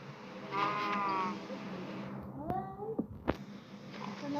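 A pig in the game Minecraft being killed gives a few short, rising squealing cries in quick succession, close and fairly loud over a low game background, after an earlier stretch of voice-like sound.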